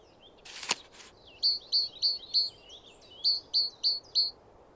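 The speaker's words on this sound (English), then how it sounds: "Common blackbird." Common blackbird song in the video game Wingspan: a soft, clear whistled phrase repeated about eight times in an even rhythm, following a brief sharp noise burst near the start, set against a faint steady background hiss.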